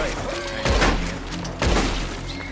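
Two heavy booming gunshot bursts crack out about a second apart, with no voices, as players shoot at a wagon in Red Dead Redemption 2 Online.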